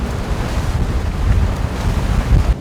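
Strong wind buffets a boat while island hopping off Palawan, with waves slapping and surging against the hull in a continuous roar that swells louder in gusts.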